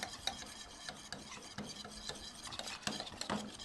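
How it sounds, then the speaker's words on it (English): A whisk scrapes and stirs vegan pumpkin roll batter in a bowl, a quick continuous rasping and clinking against the bowl, close and fairly soft with no talking. "I just like to whisk it together really quickly"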